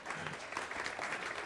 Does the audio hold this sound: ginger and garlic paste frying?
no